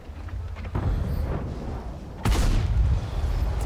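An Object 907 Tier 10 Russian medium tank fires its main gun in the video game World of Tanks. Two loud, heavy booms land a second and a half apart, each trailing into a rumbling battlefield wash.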